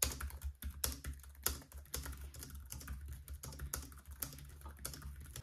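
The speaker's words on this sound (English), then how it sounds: "This is also just very quiet, so really, really nice to type on." A quiet computer keyboard in an office is typed on in quick, irregular bursts of soft clacking keystrokes, close and clear, with brief pauses between runs.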